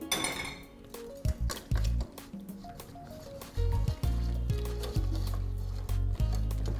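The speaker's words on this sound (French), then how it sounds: "On verse la crème liquide sur le chocolat et on part avec le fouet." A whisk knocks and clinks against a bowl as liquid cream is stirred into chocolate, giving irregular metallic taps and scraping, close and fairly loud, with no talk.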